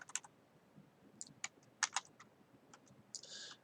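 Quick bursts of keystrokes on a computer keyboard while typing Python code, a few scattered clicks followed by a short cluster of taps, close and clear with no talking.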